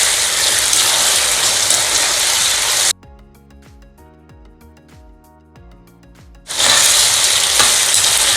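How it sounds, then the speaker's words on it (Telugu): Chilli chicken fries on a high flame with a loud, dense sizzle. Partway through, the sizzle cuts out to quiet clicking, then returns at full strength. "ఇలా హై ఫ్లేమ్లోనే ఒక 2 మినిట్స్ ఫ్రై చేసుకోవాలి."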